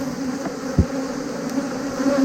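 Honey bees buzzing steadily around an opened hive during a June honey harvest, a continuous close drone with a brief low thump partway through.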